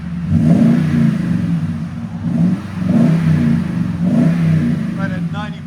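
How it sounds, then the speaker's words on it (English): A Toyota Tundra 5.7L V8 with a Borla exhaust revs repeatedly, with loud rising and falling engine surges and a deep exhaust note in roughly four pulses; a person talks briefly over it. "Here, give it gas now"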